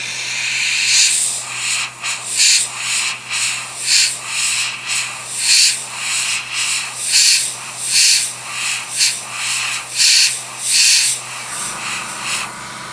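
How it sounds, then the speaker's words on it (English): Airbrush or spray can hissing in rhythmic short bursts while respraying a part of a Tamiya 1/48 Spitfire Mk1 model, close and loud, about a dozen spurts with brief gaps between them. "I cleaned it off with the 409, and I'm going to respray it"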